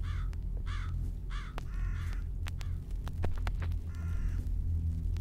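Crow in the horror video game JISATSU cawing in repeated harsh calls over a low ambient rumble, several caws spaced through the scene with sharp clicks between, no talk.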